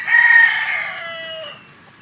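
A single loud, close gamecock crow rises and then trails off over about a second and a half, followed by near silence.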